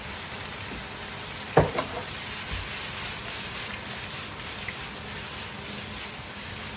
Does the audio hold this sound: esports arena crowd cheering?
no